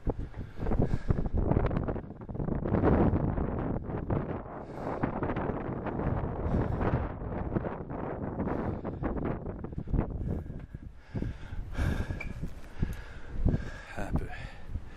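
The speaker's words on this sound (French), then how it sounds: "Il y a beaucoup de vent." Strong outdoor wind in Paris buffets the microphone with loud, continuous rumbling gusts for the whole stretch, swelling and easing with no pauses.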